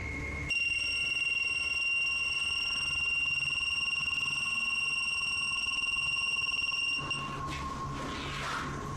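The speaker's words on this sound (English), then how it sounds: "the investigators break out an EMF sensor, which starts beeping dramatically when it's held up toward one part of the ceiling" An EMF sensor held up toward a ceiling emits a steady, continuous high electronic tone with harmonics, droning for several seconds before it breaks off near the end.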